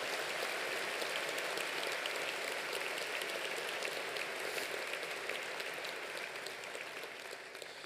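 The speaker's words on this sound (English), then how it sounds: "Let's give a round of applause to all of those incredible people." Sustained applause from a large audience at a university convocation ceremony, a dense even wash of clapping lasting throughout and easing slightly toward the end, with no voices over it.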